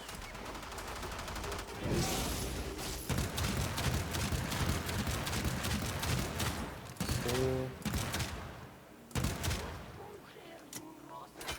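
Scourge weapon in the Warframe video game firing a long run of rapid shots, dense and loud throughout with brief pauses, mixed with other game effects.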